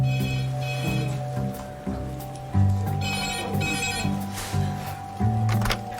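A telephone rings in a busy hospital emergency department, with repeated bursts of electronic ringing in a regular pattern, fairly loud and close over a low background hum.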